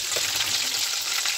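Chicken tempura frying in hot oil, a steady, close, loud sizzle and crackle that runs throughout without any talk.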